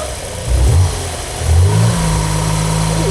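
A high-mileage super saloon with a coolant leak idles loud and close, its engine note lumpy and uneven with a few small surges as it misfires.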